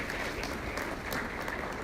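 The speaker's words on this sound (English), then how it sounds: "Another round of applause." An audience applauds at a talk, a dense, steady wash of clapping that carries without pause for the whole two seconds.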